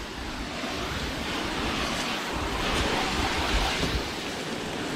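A steady, loud spray of water from a pressure washer rinses a car, a continuous broadband hiss with no talking over it.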